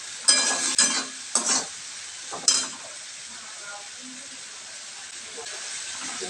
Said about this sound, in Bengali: দেখুন মশলাটা ভাজা ভাজা হয়েছে, তেল ছেড়ে চলে যাচ্ছে